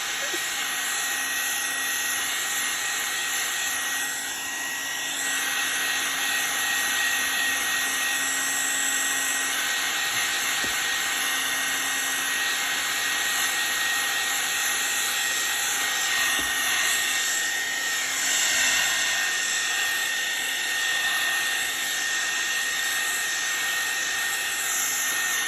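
A Babyliss hair dryer blows hard and steady on alcohol ink for the whole stretch, a loud, close, unbroken whooshing roar with a high whine running through it.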